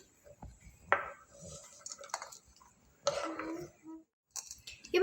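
Dried red chilies dropping into a ceramic jar for lemon pickle, giving a few brief clattering clinks and rustles at close range, with quiet pauses between them.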